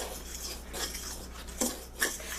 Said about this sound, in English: mix that sugar and flour together, and then I'm gonna add my butter. And mix in the butter.